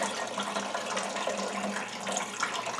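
Water runs out of a tipped orchid pot filled with lava rock, a steady broadband splashing and trickling that continues unbroken and fairly close for the whole stretch.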